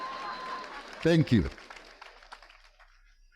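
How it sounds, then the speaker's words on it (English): An audience at a university graduation ceremony in Africa applauds. A brief spoken thanks rises over the crowd's clapping, which continues as a light, scattered patter and slowly fades. "Please clap for the men too"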